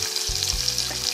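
Tomato hitting onion in a hot pan, a loud continuous close sizzle with a low thump as it goes in, no voices over it.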